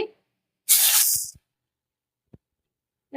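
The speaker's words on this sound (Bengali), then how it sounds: "আমি কিছুটা পেঁয়াজ বেটে রেখেছিলাম, সেটা দিয়ে দিচ্ছি।" Onion paste is dropped into hot oil and bursts into a loud, close sizzle that fades within a second, leaving a few soft clinks and near silence.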